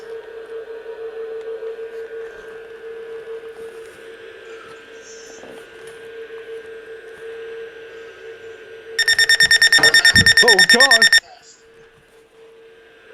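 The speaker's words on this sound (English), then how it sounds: "you can hear this weird beep" A loud, rapid electronic beeping tone from a Reecom R-1650 radio's zone guard alert bursts in for about two seconds over a steady radio hum and static, and a voice exclaims briefly.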